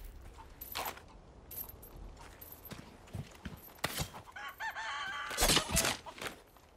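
Chickens cluck in the VR game Resident Evil 4 Remake, a scattering of short clucks and squawks over a busy ambient background, with some clattering, in a village setting.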